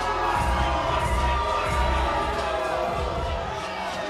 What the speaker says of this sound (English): I think this crowd is already demanding a rematch